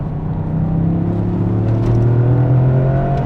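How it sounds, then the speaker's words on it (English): A Toyota GR Yaris engine steadily drones, rising slightly in pitch as it downshifts into second gear and the automatic heel-and-toe system blips the throttle. The sound is loud and continuous from start to finish, with no voices. "it heel toed quite well"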